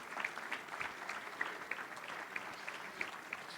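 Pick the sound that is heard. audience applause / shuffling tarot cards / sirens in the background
audience applause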